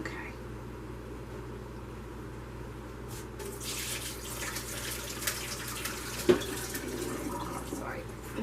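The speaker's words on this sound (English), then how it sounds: "Drain that off and I'll get some more hot water going." Hot water runs from a kitchen tap into a sink during onion canning, a faint steady rush that starts a few seconds in and carries on with small splashy bumps.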